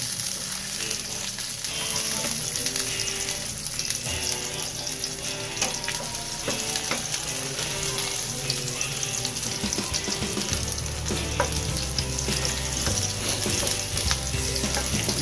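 Garlic sautéing in a pan for a Filipino malunggay and canned mackerel dish, a dense continuous sizzle with occasional clinks and stirring scrapes, steady and close, with a low musical hum under it and no talking.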